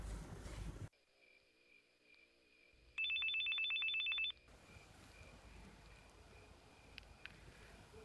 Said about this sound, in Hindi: मैं आसमा के सेल पे फ़ोन करती हूँ।